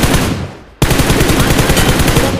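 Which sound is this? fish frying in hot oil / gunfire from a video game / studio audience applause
gunfire from a video game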